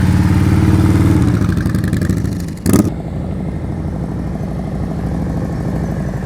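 Motorcycle engine idling and puttering at low revs during slow-speed riding practice, steady and fairly close, with a brief louder clattering burst partway through.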